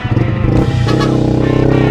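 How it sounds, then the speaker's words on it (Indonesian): Motorcycle fitted with a Tridente F19 carbon racing exhaust revs loudly and close, a rough, throaty engine roar that climbs and holds with no talking. "kalau kali ini gue pakai knalpot racing ada selama bertahun-tahun lamanya"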